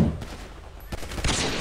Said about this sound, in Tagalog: Teka lang, magbabaril ako,